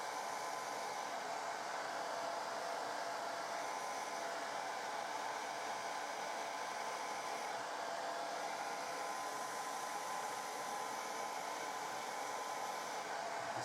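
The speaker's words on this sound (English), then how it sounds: "Then using the hairdryer" A hairdryer on hot heat blows steadily over poured resin on scatter terrain, a continuous close whooshing drone with no pauses and no talk.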